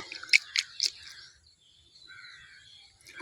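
Water is sprinkled over freshly planted fenugreek seeds, three quick, close splashy bursts followed by near quiet with faint bird calls.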